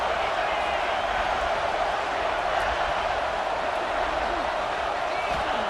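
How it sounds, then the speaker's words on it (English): A loud stadium crowd in College Football 26 roars steadily without a break as the defense faces a red zone stand, a dense, continuous wash of cheering noise. "And here comes the noise. This crowd is trying to inspire this defense to make a big red zone stop."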